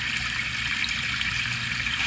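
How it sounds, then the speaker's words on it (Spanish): Rain from an iPhone's built-in background sounds feature, a steady synthetic hiss of falling water that holds even and continuous throughout, with no voices. "Lluvia."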